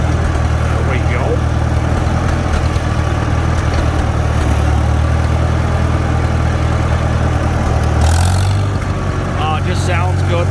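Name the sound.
Farmall Super M-TA tractor engine idling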